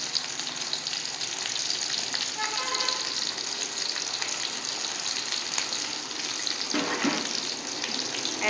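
Small onions (shallots) fry in oil for a beef pepper roast, giving a close, steady sizzling hiss with some watery, tap-like splashing mixed in and a brief clatter near the end.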